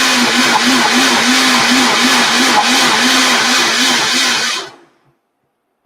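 A kitchen blender whirs loudly through chopped onion for a chicken korma, a steady close motor hum with a pulsing churn, then cuts off abruptly into silence.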